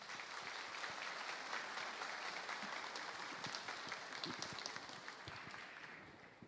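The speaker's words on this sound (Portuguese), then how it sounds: "Vamos recebê-lo com a salva de palmas." An audience gives a steady round of applause to welcome a speaker at a pastors' and elders' council, dense continuous clapping from a crowd heard at a moderate distance.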